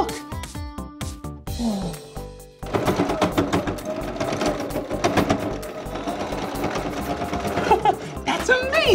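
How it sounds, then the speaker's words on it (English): A sewing machine stitches a pinned-up Halloween costume, its needle hammering in a fast, steady mechanical rhythm under bright background music. "the thread goes through the sewing machine and into the needle at the bottom"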